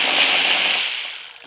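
A ratchet loosening a bolt on an Audi A6 in service position, making a quick, close, continuous clicking burst that fades out toward the end.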